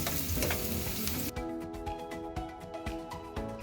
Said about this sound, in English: Then now continue cooking till your onions turn golden brown.